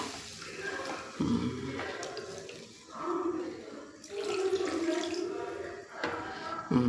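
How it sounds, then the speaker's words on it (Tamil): Cooking water splashes and pours into a pot in several bursts, running and gurgling at close range, with faint background sounds between pours. "அந்த தண்ணியோடு ஊற்றணும்"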